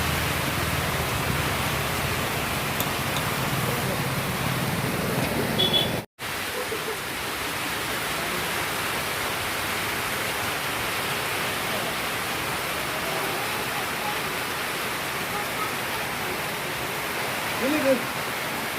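Heavy rain pours down behind a shop where water has flooded in, a dense, steady rushing hiss that fills the whole stretch, broken only by a split-second dropout partway through.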